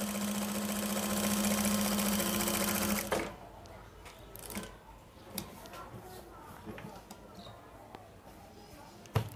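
Sewing machine stitching a panjabi runs in a loud steady whir for about three seconds, then stops, leaving quieter handling clicks and rustles of the fabric.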